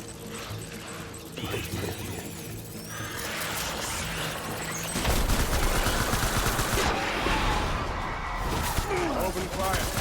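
Gunfire in the Death Stranding video game, a continuous noisy burst of shots and rattling that swells in the second half, mixed with game sounds and a faint dog-like whimper.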